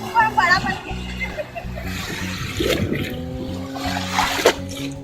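Water splashes and sloshes in bursts during a family picnic, with adults and someone talking over it throughout.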